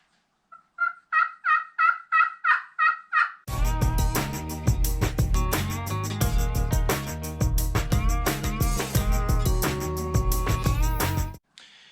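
Wild turkey gobbles in spring, a run of about eight short, loud rattling calls in quick succession, then a dense burst of overlapping gobbling and clucking that continues for several seconds before stopping abruptly.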